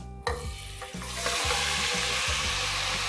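Marinated mutton hits a hot pan with a sharp splash and settles into a loud, steady sizzle, while a spoon scrapes and stirs in short repeated strokes underneath.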